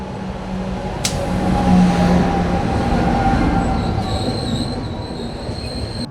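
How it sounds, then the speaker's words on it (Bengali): The 13125 Kolkata Sairang Express pulls into platform 6 at Azimganj station, a loud close rumble of rolling wagons with squealing wheels and a brief sharp screech early on, steady throughout without talk. "গাড়ির সংখ্যা 13125 কলকাতা সাইরাং এক্সপ্রেস 6 নম্বর প্ল্যাটফর্মে কিছুক্ষণের মধ্যে"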